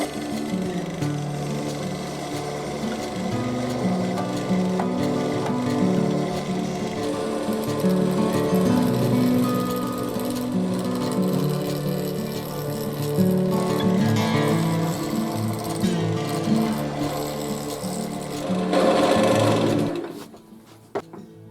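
A wood lathe spins a resin blank at high speed while a freshly sharpened spindle roughing gouge takes cuts, a loud continuous whirring with stepped rising and falling tones, then the machine winds down and stops near the end.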